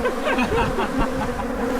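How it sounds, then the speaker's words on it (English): A swarm of killer bees buzzes close and loud, a dense continuous drone with shifting wingbeat tones from many insects at once. "Here we are, covered in killer bees."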